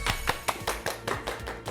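A small group claps to welcome the lecturer at a financial-planning talk: about nine even, crisp claps in a quick steady rhythm, close and clear, with no voices.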